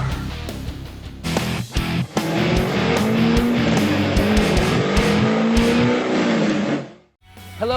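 A C6 Corvette driven hard, engine roaring loud and close with tires squealing across the run, then a sudden drop near the end before the noise picks back up briefly.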